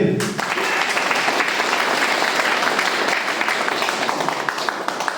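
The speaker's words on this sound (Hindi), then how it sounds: "एक ताली बजे।" Audience applause at a motivational talk fills the whole stretch, a dense, steady wash of many hands clapping at close range from just after the start, with no voices over it.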